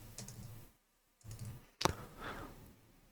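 A single sharp computer mouse click on a code editor's Go Live button, close and crisp, after a brief hush amid quiet room noise.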